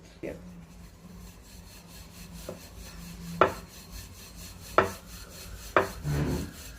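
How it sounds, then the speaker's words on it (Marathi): A rolling pin rolls out Khandeshi puran poli dough on a board with soft, continuous rubbing, broken by a few sharper wooden knocks spaced a second or so apart. "आणि पीठ लावून याला लाटून घेऊयात."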